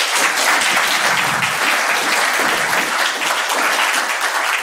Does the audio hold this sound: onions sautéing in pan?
no